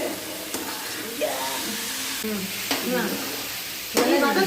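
Food sizzles and crackles in a hot pan, with intermittent scraping and stirring strokes over a steady frying hiss.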